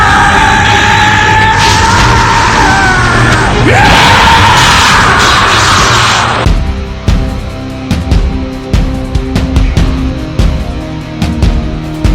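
Goku, a Dragon Ball anime character, lets out a loud, sustained scream over a roaring energy blast. About six seconds in, the scream gives way to a string of sharp impacts and crackling bursts.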